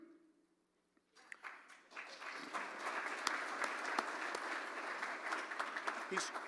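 Applause from an audience at a Rotary Club of Tulsa meeting breaks out after a brief quiet, a steady dense wash of clapping that holds at full strength to the end.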